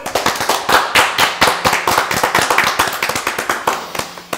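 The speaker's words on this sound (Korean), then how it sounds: "다 같이 박수" A group claps briskly and unevenly, sharp overlapping hand claps filling the whole stretch with no talking.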